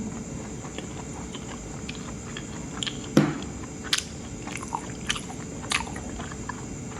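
Spicy jellyfish salad chewed close to the mouth during a sushi meal, with soft crisp bites and a few sharper crunches spaced out over several seconds, quiet and with no talking.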